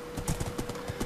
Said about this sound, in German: Es ist ein Pferd, kein Boxsack.